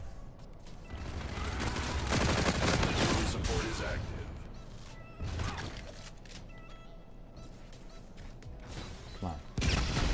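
Bursts of shotgun gunfire in a fast-paced video game, loud and dense, firing in rapid clusters over a busy background of game noise with no clear talk.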